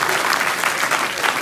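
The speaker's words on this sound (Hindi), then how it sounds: "जोरदार तालियां बजा दो एक बार।" An audience bursts into loud, dense applause, with many hands clapping together in a steady roar that fills the whole moment.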